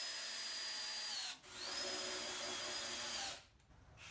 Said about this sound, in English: These also made sure the shelf wouldn't move when screwing in the pocket screws.